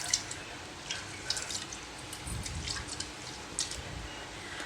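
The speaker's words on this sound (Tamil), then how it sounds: "இதை நல்லா கழுவி எடுத்துக்கலாம்" Broken rice grains being rinsed by hand in a bowl of water while preparing ragi porridge, giving soft drips and small splashes with low sloshing swirls, close and quiet, with no talking.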